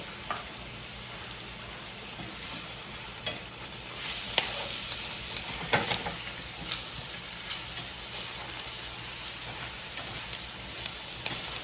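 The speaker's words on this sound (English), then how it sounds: "Pork chop is sizzling on nicely on this fire here." A pork chop sizzles and fries in a pan over an open fire outdoors, a steady crackling hiss throughout with scattered louder pops, close and without talk.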